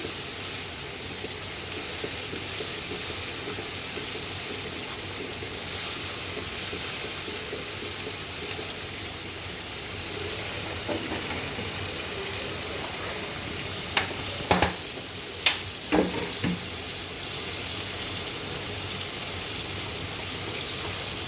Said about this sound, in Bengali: এবার অন্য মশলা দিব, আবার একটু ভেজে নেই।